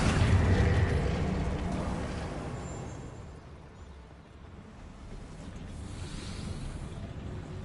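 Casting the Incendio fire spell in a video game sets off a heavy, rumbling roar that starts loud, fades to a low whoosh, then swells slightly again, with no talking.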